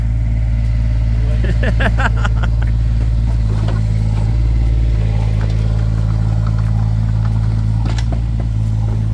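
A small digger trenching the ground for two ducts, its diesel engine rumbling steadily up close with a few revs and shifts in load, alongside clanks and scraping from the bucket.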